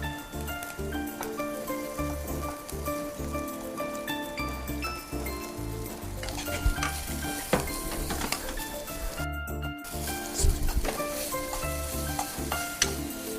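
Idlis fry and get stirred in a pan: a steady close sizzle like light rain, with intermittent scraping stir sounds and a few sharper clinks, while a faint steady tone hums underneath.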